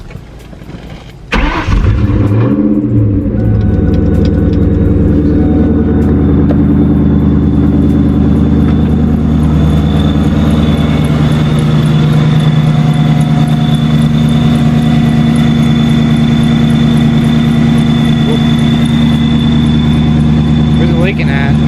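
A 99-04 Mustang GT engine cranks and catches, then settles into a loud, steady idle that drones on close by with a slightly uneven, rough character from a running fault.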